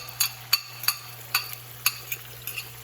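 Whisked eggs going into a hot pan for Cuban fried rice, with a spatula scraping and tapping in a steady series of sharp, close strokes over a faint low hum; no talking.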